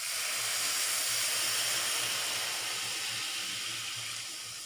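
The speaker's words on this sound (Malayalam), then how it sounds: "ഇതിലേക്ക് ലേശം വെള്ളം ഒഴിച്ചിട്ട് നമുക്ക് ഷുഗർ ഒന്ന് മെൽറ്റ് ചെയ്തെടുക്കാം" Sugar and water heat together in a pan while making kaju katli, giving a steady, close, even hiss with a faint low hum beneath it that eases slightly toward the end.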